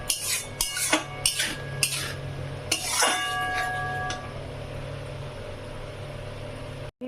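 Prawn malai curry stirred in a pan: a run of sharp metal spoon scrapes and clinks against the pan, then quieter sizzling and a low hum with no talk.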